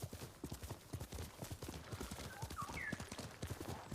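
Horse hooves clip-clop in the video game Ghost of Tsushima, a steady rhythmic run of hoof beats on a road with a brief whinny partway through, fairly close and clear.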